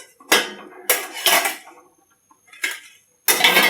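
Metal pot lid lifted and clattered on a simmering pot of prawn curry, several sharp clanking bursts separated by short pauses, close and fairly loud with no talking.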